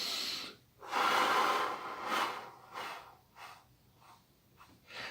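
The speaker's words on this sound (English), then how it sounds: "So it is better to take 3 deep breaths." Slow, deep breaths taken close up in a calm breathing exercise: a long rushing inhale, then softer airy exhales and shorter breaths, with no talking.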